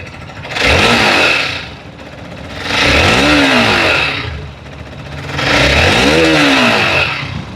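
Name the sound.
Hero Xpulse 200 4V Pro motorcycle exhaust revving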